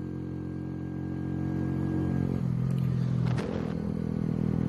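Lexmoto Hunter 50cc motorcycle engine held at low revs in fourth gear, a steady close droning hum with slight clatter and a brief rise in noise midway, no talking.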